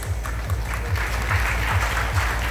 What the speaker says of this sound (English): Let's give a loud round of applause